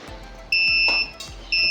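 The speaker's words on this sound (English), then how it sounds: "Now I have turned off this burner, but still it is beeping because there are some LPG molecules present in the air." An Arduino LPG gas detector with an MQ135 sensor and buzzer, set off by gas from a burner, sounds loud, high electronic beeps in two long pulses separated by a short gap.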